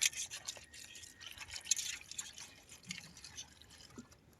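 Water poured over fresh crabs in a cooking pot gives close, trickling splashes and drips that splatter unevenly, ending with a louder splash.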